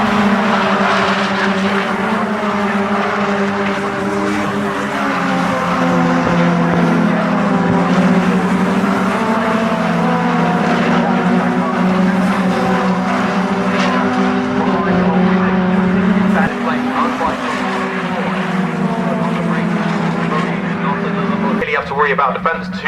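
TCR touring race cars battle at Snetterton circuit during a BRSCC meeting, engines droning and shifting pitch as the pack passes close, with tyre noise and a commentator talking over the din.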